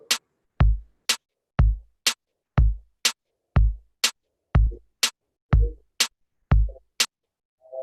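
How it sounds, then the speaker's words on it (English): A programmed drum beat alternates a deep kick with a sharp snare on beats 2 and 4, steady and loud, about eight clean hits per side with silence between. "And you're gonna put that snare drum on beat 2 and 4."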